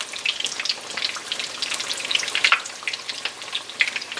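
Onion rings fry in canola oil with a steady, close crackle of bubbling and popping, dense spits and sizzles running without a break and no one speaking.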